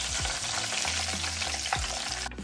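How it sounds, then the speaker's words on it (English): Panko and macadamia nut crusted fish frying in hot oil, a dense continuous sizzle and crackle, close and steady, with no voices. "And then fry till golden brown and crispy."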